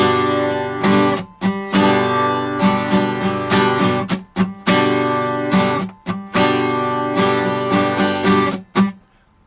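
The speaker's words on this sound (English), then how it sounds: "So if we're strumming a pattern that goes like this" Funk guitar strummed in a steady down-up pattern, bright ringing chords broken by short percussive muted scratches, loud and close with no voice over it.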